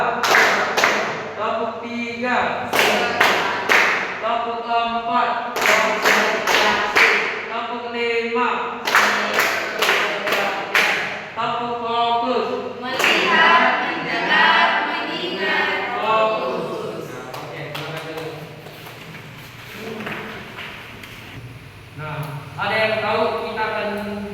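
A classroom of students claps hands together in short rhythmic bursts, repeated several times and alternating with loud group voices chanting and talking.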